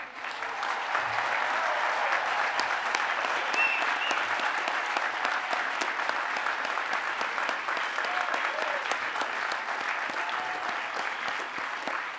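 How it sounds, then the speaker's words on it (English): Parents, grandparents and families applauding graduating students at a graduation ceremony, a long, even roar of many hands clapping that holds steady throughout, heard at a moderate distance. "all the students who are graduating stand to be applauded by their parents, grandparents, and families"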